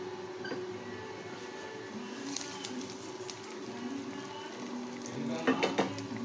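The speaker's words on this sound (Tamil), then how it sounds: "ஆட் பண்ணி நம்ம கிளறலாம்." Ven pongal is stirred in a hot pan with curry leaves, giving a low steady sizzle with a few soft utensil clinks and scrapes that grow busier toward the end, with no speech.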